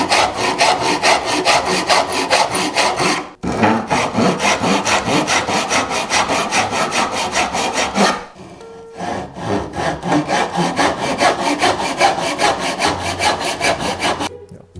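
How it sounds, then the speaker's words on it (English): A handsaw cuts through a block of wood in steady, rhythmic back-and-forth strokes, rasping and close, pausing twice briefly before carrying on. "And now we are done with the sawing"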